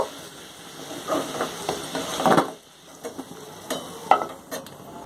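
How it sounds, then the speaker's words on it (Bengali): Potatoes fry in hot oil in a pan until reddish, giving a close, steady sizzle broken by a few sharper stirring scrapes and clinks, with no talking. "কেটে রাখা আলুগুলো ভেজে নেব লাল করে, একটু লাল লাল করে ভেজে তুলে নেব।"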